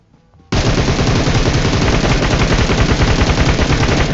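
A large automatic gun in a video game opens up after a brief quiet moment, firing a loud, continuous rapid burst of closely spaced shots that runs without a break to the end, close and with no talk.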